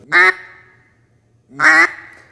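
A duck call is blown twice in a hunting setting, giving two short, loud, nasal quacks about a second and a half apart, with near-silence between them.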